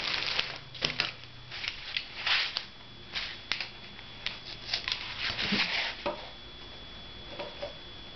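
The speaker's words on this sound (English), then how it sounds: "I need to use a pencil to mark it" A pencil drawing marks on a backboard for silk mounting, heard as quiet, close, irregular scratchy strokes and light taps in short bursts, alone in a still room.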